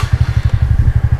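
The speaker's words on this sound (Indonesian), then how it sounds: "Tidak seperti Skutik 125 cc pada umumnya, dia suaranya sedikit ngebas dan agak-agak mirip kayak knalpot bobokannya" Idling exhaust of a TVS NTORQ 125 Race XP scooter, a steady, rapid, bassy thumping pulse close to the pipe, loud and alone.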